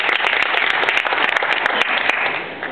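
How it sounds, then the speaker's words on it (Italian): An audience applauds a young sailing crew member at a team presentation, a steady crowd of many hands clapping at even loudness, with a few sharp claps standing out and a slight fade at the end. "un altro applauso anche per lui."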